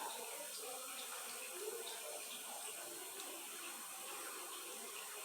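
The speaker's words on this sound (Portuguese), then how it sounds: "eu agora vou colocar água no solo argiloso" Water poured onto clay soil in a cut PET bottle lined with cotton, a soft continuous trickle and faint spatter, quiet and close.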